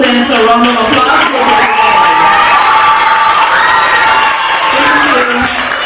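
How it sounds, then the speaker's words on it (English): A loud awards ceremony crowd cheers, whoops and claps for all the students, with excited shouting voices rising over continuous applause from start to finish. "let's give all of our students a round of applause."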